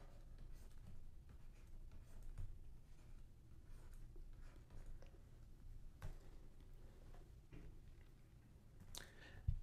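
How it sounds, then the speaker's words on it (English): A pen scratching out a SUVAT table for an IB physics kinematics problem, a faint, steady close-up scribble of short strokes and taps with no speech. "if I write up my SUVAT table"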